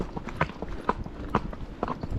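Hooves of a Tennessee Walking Horse clip-clopping on a dirt trail near Folsom Lake, a steady run of close, distinct strikes with faint voices in the background.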